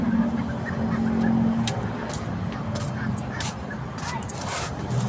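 Ducks quacking and squawking in a noisy rooftop pen at feeding time, with people talking over the flock's steady chatter.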